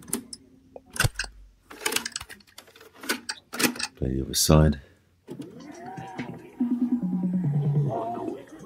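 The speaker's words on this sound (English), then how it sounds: "The cassette sounds slow." Portable analog cassette player with worn belts playing tape too slowly, its dragging, low-pitched warbling tones heard in the second half after a stretch of speech and handling clicks.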